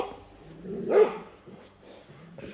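Dogs bark along a forest trail during a long trail run, one louder burst in the middle standing out over low surrounding noise and faint voices.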